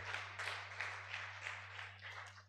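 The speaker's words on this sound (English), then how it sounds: "Please round of applause for them again." An audience at a medical symposium applauds presenters, a faint, steady wash of clapping from many hands lasting a couple of seconds over a low hum.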